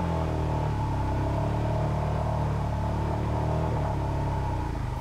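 A motorcycle engine purrs steadily while climbing a steep, root-covered hill from a standstill off-road, a continuous, smooth, close-up rumble with no pauses.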